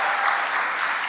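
An audience at a Hall of Fame ceremony applauds with a dense, steady patter of many hands clapping together, loud throughout the short stretch.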